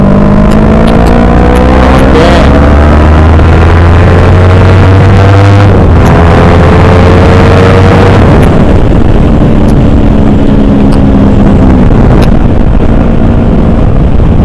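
A loud motorcycle engine with a deep, raspy LeoVince aftermarket exhaust climbs through the revs and shifts gears on a coastal road in Gunungkidul, heavy wind noise roaring over it the whole time.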